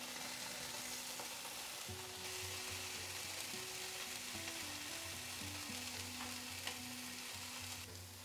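Steady, close sizzling of halloumi frying in a hot pan, a constant crackling hiss with a low hum underneath, no voices.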